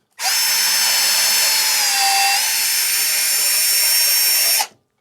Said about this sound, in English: Okay, drilled it pretty easily.